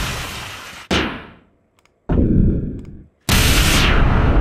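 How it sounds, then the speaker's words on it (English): Three booming explosions ring out in turn, each a sharp loud blast fading into a rumbling tail, separated by moments of near silence. "Big explosion sound of anime and science fiction."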